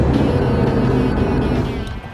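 A 2005 Lamborghini Gallardo V10 driving in traffic, its engine a steady low rumble heard from inside the cabin with road noise, easing slightly toward the end.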